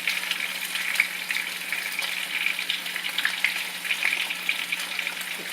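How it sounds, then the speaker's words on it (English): Oxtail browns in an Instant Pot, giving a steady, moderately quiet sizzle with a continuous hiss and scattered small pops and crackles, alone without speech. "this is how I'm browning my oxtail"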